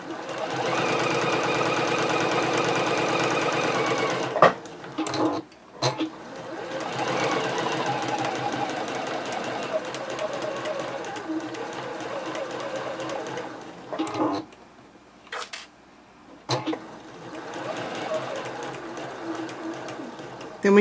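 Home sewing machine stitching a seam on a doll dress, a steady rapid mechanical whirr and clatter that runs in bursts with short stops, near and clear, with someone talking over parts of it.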